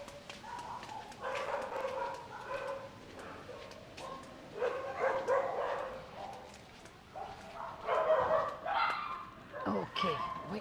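Excited puppies at the Soi Dog Foundation shelter in Phuket, Thailand, yipping, barking and whimpering in overlapping bursts close by, with people talking over them throughout.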